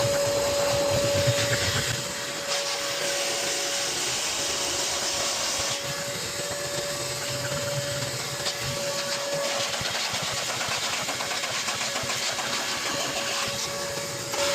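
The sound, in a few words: vacuum cleaner hoovering a car interior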